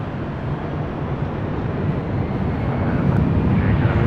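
Airbus airliner at LAX airport, a steady broadband engine roar sustained throughout at moderate loudness, without pauses or talk.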